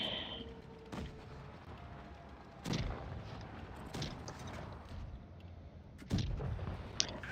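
Tank cannon shots from a World War II tank game featuring the Krupp Grosstractor firing HEAT rounds, several sharp booms spaced a few seconds apart, fairly faint over a quiet background.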